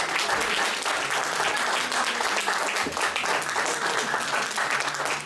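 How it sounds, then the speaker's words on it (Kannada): Applause for reality show performers at a Kannada function, a dense, sustained wash of many hands clapping throughout. "ಸೊ ರಿಯಾಲಿಟಿ ಶೋದ ಕಲಾವಿದರಿಗೆಲ್ಲ ಒಂದ್ಸಲ ಜೋರಾಗಿ ಚಪ್ಪಾಳೆ ಹೊಡಿ ಸರ್."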